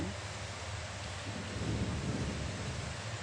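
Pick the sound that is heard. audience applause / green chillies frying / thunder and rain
thunder and rain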